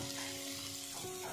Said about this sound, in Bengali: মশলাটা ভাজা ভাজা হয়ে যাওয়ার পর এর মধ্যে আলুটাকে মিশিয়ে